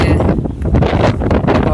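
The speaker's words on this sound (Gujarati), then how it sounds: "પાછો હવે વરસાદ ચાલુ થઈ ગયો છે પવન" Strong wind gusts buffet the microphone in a loud, rushing roar during a flood in Suigam, Banaskantha, Gujarat, with a rainy, rustling wash of noise underneath.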